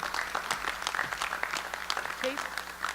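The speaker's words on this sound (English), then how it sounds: "Let's all give them a round of applause." Audience applause at a Rotary Club induction ceremony, a steady wash of clapping across the room with some voices mixed in throughout.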